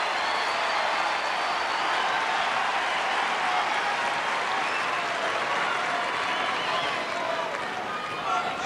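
Tennis crowd at the Henman–Philippoussis match applauds in a loud, sustained, dense roar of clapping lasting nearly nine seconds, steady throughout with a commentator's voice partly beneath it.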